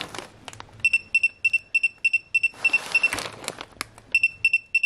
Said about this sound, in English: See, it beeps, so it does have continuity and I know the fuse is good.